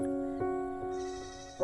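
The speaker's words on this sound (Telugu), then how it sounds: "గొర్రె కాదు మేక" A goat caught in a net bleats in one long wavering cry, loud and close, swelling again at the end.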